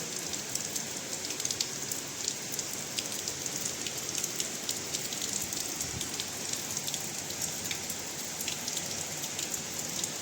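Heavy, steady cyclone rain in Balasore, India, pours down without a break, a dense hiss with scattered drops pattering close by. There are no voices.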